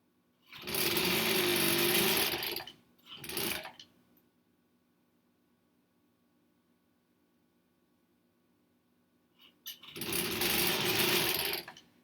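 A sewing machine sews the seams of a foundation paper pieced sampler quilt block in short bursts of fast stitching, with a long quiet stretch between runs before it starts up again, close and clear with no talking.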